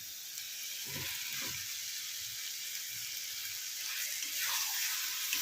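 Potatoes pre-boiled with salt and turmeric are dropped into hot oil in a pan of Bengali fish curry, setting off a steady close hiss of sizzling with a couple of soft clunks from the pan.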